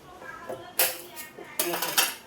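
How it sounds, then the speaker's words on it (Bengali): A knife slices a pointed gourd (potol) into four pieces in a kitchen, two sharp clinking strikes against a hard surface with faint background noise between them. "একটা পটল 4 ফালা এইভাবে কেটে সবগুলো নিয়ে নেব।"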